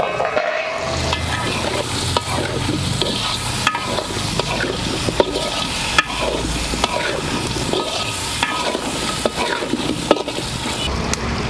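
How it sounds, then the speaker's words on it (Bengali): Tomatoes sizzling and frying in a pan for temple-style vegetarian khichuri, with a spoon stirring and scraping steadily through a constant close-up crackle. "এবারে টমেটো দিয়ে দেব।"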